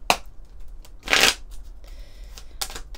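Oracle cards from a fairy-tale themed deck being shuffled and handled, giving three brisk riffling bursts at the start, middle and end with quiet rustling between them.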